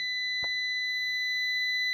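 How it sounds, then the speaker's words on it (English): A multimeter continuity tester gives a steady, high electronic beep, continuous and close, with one faint tap partway through, while probing an XT60 connector. "Put the probe in the negative of the XT60, it should beep"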